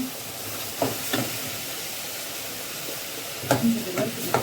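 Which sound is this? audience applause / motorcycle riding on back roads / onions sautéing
onions sautéing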